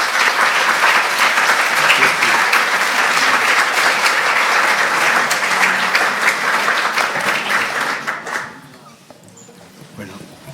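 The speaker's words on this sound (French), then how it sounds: "Je crois qu'on peut vous applaudir." Loud, sustained applause from the audience at an architecture lecture at a national school of architecture in Strasbourg, holding steady for about eight seconds before dropping away to quiet room sound.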